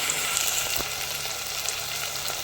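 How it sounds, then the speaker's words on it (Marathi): Tomatoes sautéing in a pan for a vegetable dish, with a steady close sizzle and faint stirring throughout, no talking. "आता आपण टोमॅटो परतून घेऊयात"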